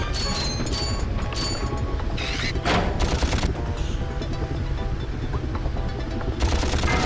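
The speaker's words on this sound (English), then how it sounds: "Machine gun!" Rapid machine gun fire and clattering mechanical effects from the Ratchet & Clank video game, loud and dense throughout, with sharp bursts and a steady rattling mass of game sound.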